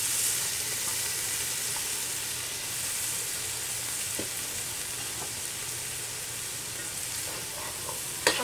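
Cubed cassava, pumpkin, sweet potato and grated carrot are stirred in a pot for Trini corn soup, with a soft steady sizzle and occasional light scraping clicks of the spoon, close and quiet, with no talking.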